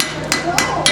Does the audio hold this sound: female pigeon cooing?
no